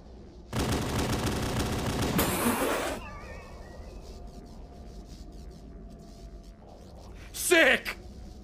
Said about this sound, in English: You can now perform head-mounted pistol barrage by flashlight and zoom.